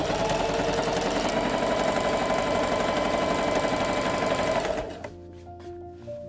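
A sewing machine stitches trim onto the top part of a Victorian bodice, running in a loud, steady rapid whir for several seconds before stopping, followed by a few quieter mechanical clicks.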